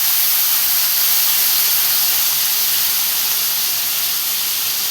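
Ground green chili and garlic paste sizzles in hot oil with cumin, making a loud, continuous, close-up frying hiss that stays even from start to end.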